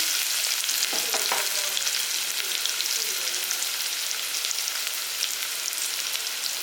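Half a large onion frying in a pan makes a steady, close crackling sizzle throughout, with a brief stir of a spoon near the start.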